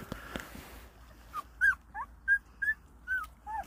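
Two-week-old Jindo puppies give a series of short, high yips and whimpers, about six cries spaced evenly over a few seconds, close by and fairly loud over a low background rumble.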